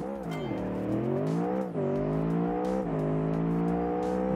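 A Corvette LS9 V8 engine on nitrous accelerates hard and loud and close by, its pitch climbing steadily through several upshifts with brief dips between gears.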